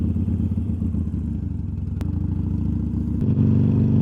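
A motorcycle engine drones steadily while riding, rising in pitch as it revs up near the end.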